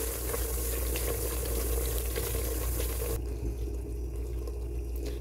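Spiced masala for biryani, with ground paste and turmeric, simmers and bubbles in a pan. The sizzling is steady and close throughout and quiets slightly near the end.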